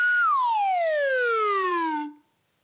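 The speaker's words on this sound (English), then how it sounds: "I'll play my real slide whistle and you use your voice to make it sound like mine." A slide whistle plays one long, loud, pure tone that holds briefly, then glides smoothly downward for about two seconds before stopping abruptly.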